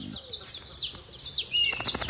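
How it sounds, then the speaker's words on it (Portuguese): Several birds chirp and sing in quick, bright repeated phrases at dawn on a farm, with a softer cooing bird underneath and near-to-mid distance calls overlapping throughout. "E olha os pássaros, escutem. Acho que dá para ouvir eles cantarem, né?"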